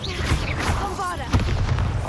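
Bombarda blasting spell exploding in Hogwarts Legacy, heavy booming blasts that rumble low and loud through the clip, with a voice speaking over them.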